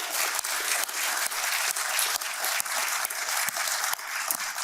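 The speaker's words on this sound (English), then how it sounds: "big round of applause for John" An audience at an Institute of Public Affairs members' event applauds for John, a steady wash of many hands clapping throughout, fairly loud and uniform with no voices over it.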